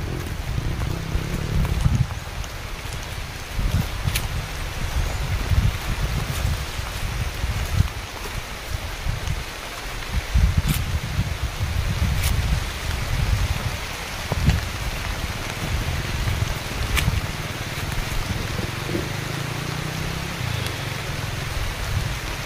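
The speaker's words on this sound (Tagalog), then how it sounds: "Ulan. Biglang ulan mga kabugoy." Sudden rain pouring steadily on surfaces, a dense, even hiss with scattered louder drop impacts and occasional sharp ticks, continuous throughout without pause.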